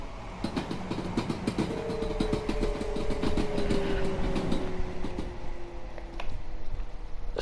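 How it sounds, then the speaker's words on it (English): Train wheels clickety-clack in a steady rhythm over the junction out of Stonebridge Park Depot in Train Sim World 2. The rail rumble is continuous and fairly loud, and a long tonal squeal runs beneath it. No voices. "I just wanted you to hear the glory of those clackety clacks"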